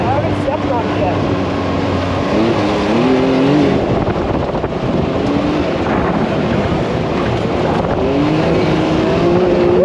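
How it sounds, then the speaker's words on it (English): Can-Am Maverick X3 Turbo RR side-by-side driving with a steady engine drone, rising and falling revs, and heavy wind noise throughout, with voices talking over it. "We're driving the Maverick X3 Turbo RR now."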